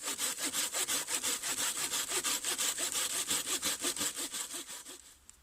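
A hand saw cuts through a wooden branch being shaped into a mallet, with about twenty quick, even back-and-forth strokes close up, slowing and fading at the end.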